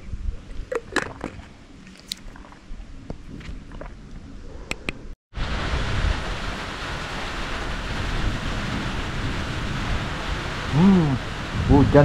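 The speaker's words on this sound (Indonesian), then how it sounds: "hujan disertai angin ya, Wal." Heavy rain driven by wind in a forest sets in abruptly partway through, a loud, steady hiss of falling water after a quieter opening with scattered taps and sounds.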